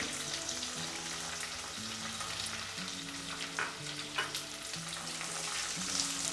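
Onions sizzling steadily in a pan after curry leaves, a continuous frying hiss with occasional stirring scrapes and clicks, close and fairly loud with no talk.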